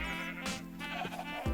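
A sheep on a farm bleats once, loud and close, a wavering nasal cry lasting about a second, followed by a short lower bleat at the end.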